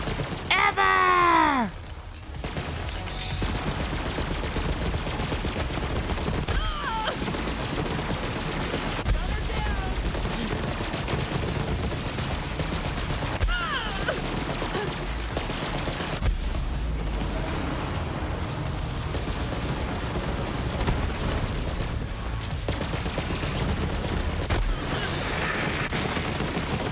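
Constant gunfire from the video game Borderlands 3, a steady barrage of rapid shots running nearly the whole time at close range, with a sharp rising whine near the start.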